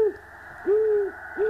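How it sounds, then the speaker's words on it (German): An owl in a horror video game hoots three times, loud and close, each call a smooth rising-then-falling tone over a constant low hum. "mit A macht der Geräusche einer Eule."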